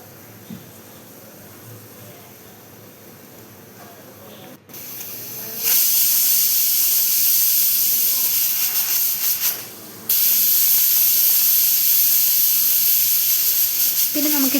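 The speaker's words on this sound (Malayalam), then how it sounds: "നമ്മുടെ കുക്കർ ഇപ്പം ആദ്യത്തെ വിസിലടിച്ചു" A pressure cooker releases a loud, sustained steam hiss while cooking Kerala-style drumstick-leaf dal curry, starting softer then surging into a strong continuous jet with a brief dip before resuming.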